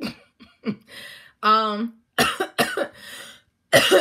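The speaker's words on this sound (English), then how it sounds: "Yep, I'm coughing and not covering my mouth." Several sharp coughs burst out in quick succession, close and fairly loud, with a brief throaty rasp between them.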